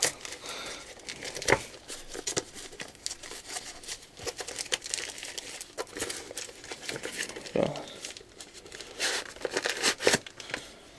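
Plastic packaging around an AliExpress rear-view camera is crinkled and torn open in irregular bursts of rustling and ripping, close up, with a voice speaking now and then.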